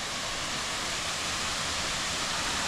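Waterfall at the end of the Sougahoagdee Falls trail in Alabama, a steady, unbroken rushing roar of falling water filling the whole clip at an even, moderate level with no voices.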